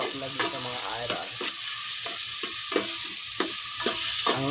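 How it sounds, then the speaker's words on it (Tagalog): Garlic and tomato sauté in a hot pan with a steady, close sizzle, while a utensil stirs and scrapes in a series of regular strokes, and no one talks. "Igigisa natin ang masarap na gisa"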